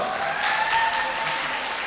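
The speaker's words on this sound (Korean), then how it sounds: "박수 한번 부탁드릴게요" An audience at a Korean girls' high school gathering applauds steadily, a soft, even wash of clapping at a distance, with a faint tone running underneath.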